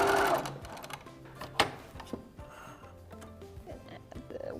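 A sewing machine stitches two quilt squares together while piecing a quilt, running in short bursts with brief pauses. The whirring is fairly close, and faint voices are heard in the background.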